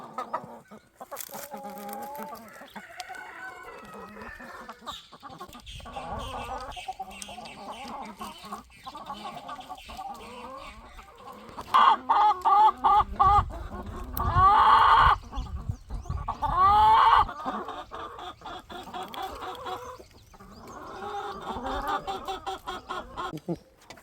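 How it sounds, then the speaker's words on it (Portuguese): Chickens cluck and squawk in bursts over a long stretch, several birds close by, with a rooster calling among them and louder flurries midway. "Agora, substituindo o galo, vou colocar o Isaac com as galinhas."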